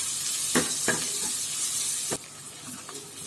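Garlic, ginger and chopped coriander leaves sauté in hot oil with a steady, close sizzle, broken by a few stirring scrapes and a sudden drop in hiss midway.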